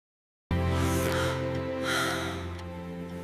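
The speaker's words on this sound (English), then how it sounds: "I am yawning." A person yawns once, a long breathy exhale that starts abruptly and stays loud and close to the end.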